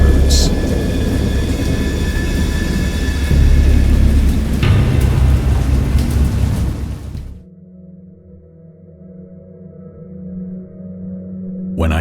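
Stormy game ambience from the horror adventure Dagon, with a loud, sustained rumble of thunder and heavy rain rolling for several seconds before dropping to a quieter, droning backdrop.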